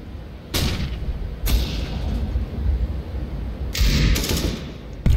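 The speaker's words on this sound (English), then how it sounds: "Throwing flashbang." Flashbang grenade thrown in the video game CS:GO, with several sharp bursts and bangs over a continuous game background rumble, close and fairly loud.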